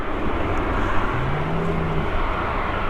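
A Ryanair airliner at Manchester Airport gives a steady, broad jet roar that holds at an even level throughout, with a low engine tone rising slightly partway through, heard from a distance with no talking.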